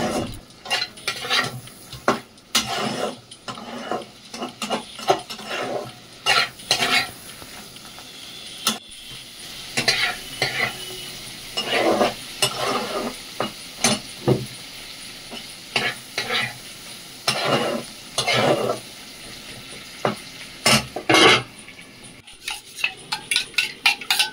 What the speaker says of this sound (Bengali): মশলাটা রেডি, চিংড়ি মাছটা দিয়ে দিলাম। নাড়িয়ে চাড়িয়ে